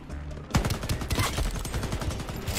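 Rapid, dense gunfire in the first-person shooter video game Shatterline, with loud overlapping shots and bursts fired in quick succession throughout.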